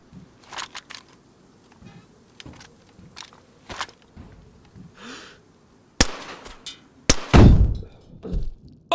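A grenade goes off in the survival game DayZ among scattered sharp cracks and clanks, ending in a louder, deeper blast with a short rumbling tail. It sounds fairly distant.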